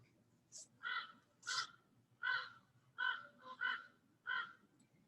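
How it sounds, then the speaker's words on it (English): Crows caw outdoors in the morning, a run of about seven loud, harsh calls spaced roughly half a second to a second apart over quiet ambient hum. "Birds are very talkative this morning."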